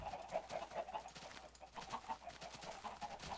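Minecraft chickens cluck in quick repeated bursts close by, a steady stream of soft game-style clucks over a low background hum.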